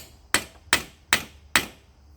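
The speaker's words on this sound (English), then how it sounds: "So I take my hammer, and I hit right here." A steel hammer strikes a stud on an engine top end, four sharp metallic blows at an even pace, close and loud with short ringing decays.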